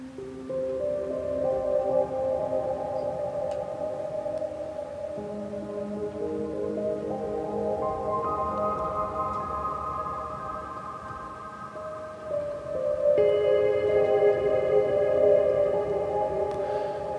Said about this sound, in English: So this is all just a piano being processed through this one effect.